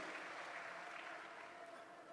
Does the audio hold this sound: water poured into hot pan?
no